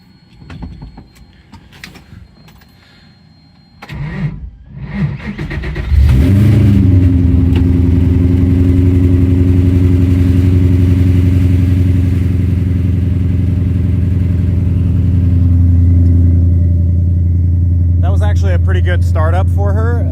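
A Coyote V8 swapped into a 1965 Mustang restomod cranks briefly, catches and starts, then settles into a steady, deep, loud idle heard from inside the car, with a voice speaking briefly near the end.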